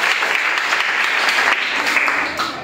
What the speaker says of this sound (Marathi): या दादासाठी सगळ्यांनी टाळ्या वाजवायच्या